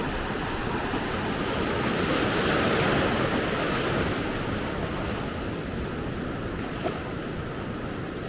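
Ocean waves and surf roll in at Maspalomas, Gran Canaria, a steady close roar of breaking water blended with gusting wind across the microphone, continuous and without speech.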